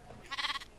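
A single short sheep bleat from the Minecraft video game, a brief wavering call lasting under a second, moderately clear with no talk over it.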